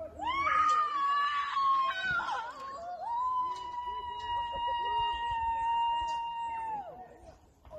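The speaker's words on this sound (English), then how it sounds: "Boy, what a scream that was." A person screams loudly and at length during a bungee jump, a sustained high wavering cry that rises, steadies and then fades, with other faint voices around it.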